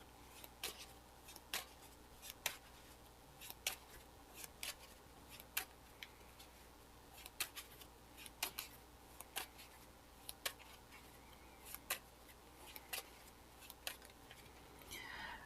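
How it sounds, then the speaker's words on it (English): Playing cards are shuffled during a Marvel card game, heard as a quiet run of short crisp riffling clicks repeating at an irregular pace throughout, close up with no talking. "that's a lot of shuffling"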